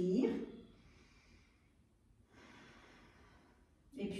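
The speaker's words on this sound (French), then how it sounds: "Prenez une bonne inspire, une bonne expire." Two long, slow, deep breaths come through the nose during a yoga breathing exercise in Tadasana, each drawn-out airy sweep fading softly, with an instructor's voice briefly at the start and end.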